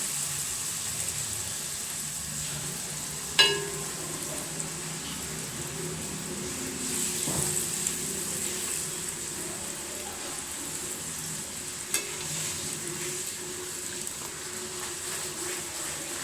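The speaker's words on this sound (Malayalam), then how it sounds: "അപ്പോൾ കണ്ടോ പൂരി അത് ഇട്ട് കൊടുത്തേക്ക്." Puri frying in hot oil gives a steady, even sizzle and hiss throughout, with a sharp click near the start and a few soft pops later; no one speaks.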